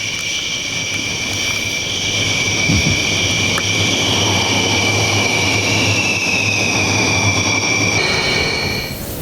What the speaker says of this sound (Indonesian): pesawatnya terbang rendah, derunya juga luar biasa